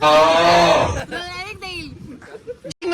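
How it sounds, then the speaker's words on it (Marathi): A loud, drawn-out low moo from a buffalo up close, followed by a few brief voices and scuffling sounds. "अजून ही म्हैस."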